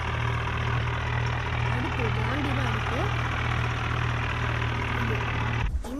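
A John Deere tractor engine idles with a steady, low rumbling throb that cuts off abruptly just before the end, while someone talks over it.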